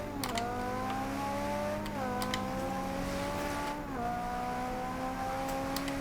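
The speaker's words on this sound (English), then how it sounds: "I absolutely love how the exhaust sounds on this car." A 2015 Ferrari 458 Speciale's exhaust in the video game Forza Horizon 2 drones and revs, the pitch climbing, then dropping sharply at each gear shift, about twice over a few seconds.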